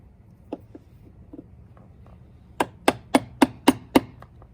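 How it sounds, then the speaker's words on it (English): A hammer strikes wood on a door frame while a striker plate is being moved. A few soft taps come first, then six sharp, evenly spaced blows close by. "So I can now come back into the top here and hammer down."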